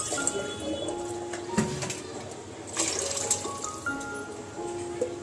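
Water poured from a vessel into a pot for cooking khichdi, a steady, moderately close splashing pour lasting several seconds with small drips and clinks.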